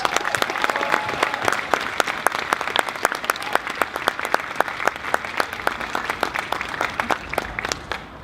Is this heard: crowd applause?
yes